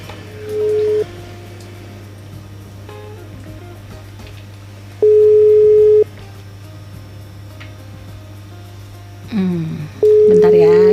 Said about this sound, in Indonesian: kita telepon aja ya biar bisa langsung ngobrol nih sama Bu Lucy-nya ya